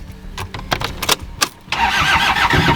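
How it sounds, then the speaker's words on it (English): A car engine cranks in several short bursts, then catches and settles into a steady, loud idle after its battery was replaced; keys jangle briefly beforehand. "Once the battery was replaced, the car started."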